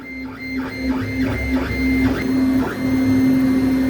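A 3D printer fitted with a 4 mm stainless steel nozzle prints at 206 °C, its stepper motors whining in repeating rising and falling tones over a constant hum and fan noise, close and steady without speech.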